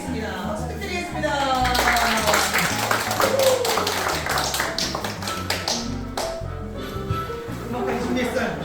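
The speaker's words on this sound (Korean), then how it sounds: "박수 부탁드리겠습니다" A concert audience claps throughout, with dense sharp claps and a rhythmic beat underneath, suggesting music or rhythmic clapping. Voices are faintly mixed in.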